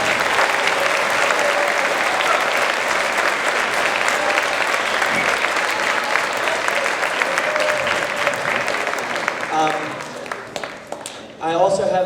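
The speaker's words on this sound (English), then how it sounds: "So can we give a huge round of applause for all the middle school teachers?" Audience at a school band concert applauding middle school teachers, a long, full roll of clapping from a large crowd that thins and tapers near the end as a few voices come through.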